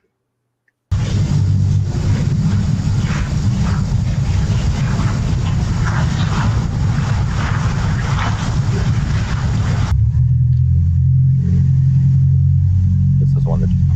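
A passing car engine: a loud, continuous low rumble with wind-like roar, changing in tone partway through as a second vehicle takes over, recorded from a distance with heavy mic noise.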